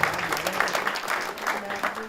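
An auditorium audience at a university literary event claps for a guest author, a steady crowd applause with a voice talking over it.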